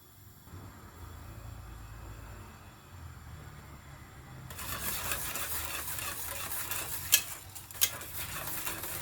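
A pot of coconut milk with gelatin and cornstarch for coconut jelly dessert bubbles and hisses on the stove while a spoon stirs it, a steady wet rush with a couple of sharp scrapes near the end.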